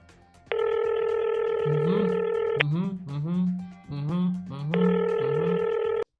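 A synthetic telephone ring sound effect plays on a Hindi talk show. Two loud, buzzing ring bursts bracket a stretch where someone speaks.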